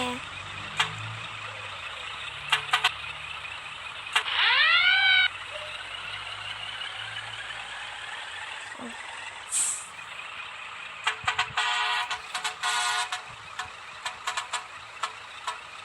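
Truck engine with hissing air brake bursts in a mobile truck driving game, a rising tonal whine around the middle and clusters of sharp pneumatic hisses and clicks later, with someone talking intermittently.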